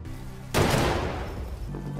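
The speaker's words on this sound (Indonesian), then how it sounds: "2 tembakan terdengar." A sharp, loud gunshot bursts out suddenly and rings into a fading, rumbling echo.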